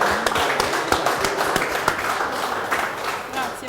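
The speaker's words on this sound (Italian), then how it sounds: "Un applauso, grazie." Studio audience applause on a Palermo variety broadcast, scattered sharp claps over a denser wash, with some voices mixed in beneath.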